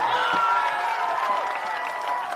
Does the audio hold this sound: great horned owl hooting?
no